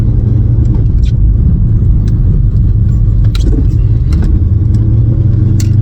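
A 1981 Aston Martin V8 Volante with an automatic gearbox drives along, its engine a loud, steady low rumble close by, with a few light clicks and rattles from inside the car and no talk.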